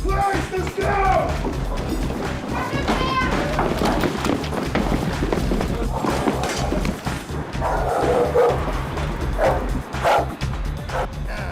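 A dog barks repeatedly in bursts during a police raid on a house in Plymouth, loud and close amid shouting officers, scuffling movement and background commotion, with voices talking over and between the barks.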